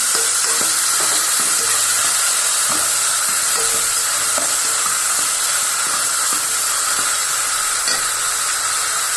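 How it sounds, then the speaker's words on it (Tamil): Tomatoes with salt sauté in a pan for a chicken curry, giving a steady loud sizzle with scattered stirring clinks throughout. "இப்போ தக்காளி மட்டும் உப்பு போட்டுடலாங்க. நல்லா அதுதான் நல்லா மைய வதக்கணும்."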